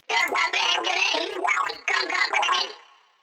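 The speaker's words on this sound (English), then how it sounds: "I also decided to add a so-called flanger effect." Splatoon-style gibberish vocals processed with a flanger effect, a sweeping, whooshing sung phrase in two bursts separated by a brief gap, close and fairly loud, tailing off at the end.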